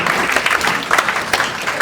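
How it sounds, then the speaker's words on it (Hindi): A live audience claps at a Hindi comedy poetry stage show, the steady applause continuous and fairly loud for about two seconds with no voices over it. "हाँ ताली इनके लिए बजाना।"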